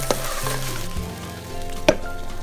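Onions and peppers sizzle steadily in a pan while being stirred, with a couple of sharp utensil scrapes against the pan standing out over the continuous frying hiss.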